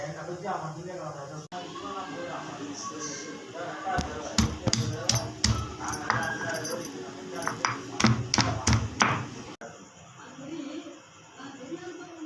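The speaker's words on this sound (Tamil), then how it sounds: "இந்த மாதிரி கீரையை பொடியாக நறுக்கிக்கணும்." Quick, sharp knife taps on a cutting board in a rapid irregular run as greens are finely chopped, with a person talking before and after.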